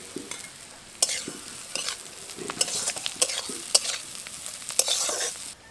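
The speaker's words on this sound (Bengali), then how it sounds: "পেঁয়াজের সাথে সবজিগুলো আমি খুব ভালোভাবে নেড়ে নিয়েছি" Onions and vegetables stir-fry for egg chowmein, a steady sizzle broken by repeated loud scrapes and clanks of a spatula against the pan at an irregular tossing rhythm.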